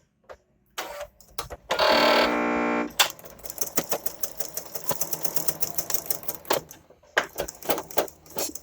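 A sewing machine double-stitches a tiny hem on a white muslin safety mask, a short steady whirring run followed by a quick burst of rapid clicking stitches and pauses, close and fairly loud with no talk.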